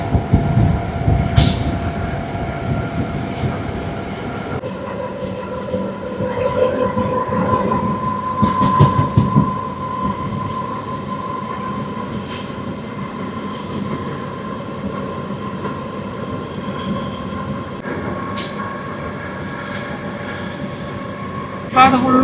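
A passenger train running from Palakkad toward Walayar through the Western Ghats, steady rumble and rattle of carriages throughout, with a brief louder burst near the start and another toward the end.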